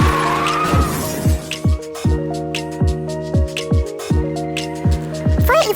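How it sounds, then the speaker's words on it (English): A lorry with failed brakes skids with a loud tyre screech, followed by a run of sharp rhythmic pulsing tones. No clear crash impact stands out, and no one speaks. "He tried to push the brake pedal, but unfortunately, the brake was not working. Thus, he failed to stop his lorry and crashed onto the rocks."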